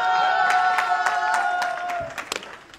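An audience applauds at a live comedy show, with a dense burst of clapping that thins out into a few scattered claps, while a voice carries on over it.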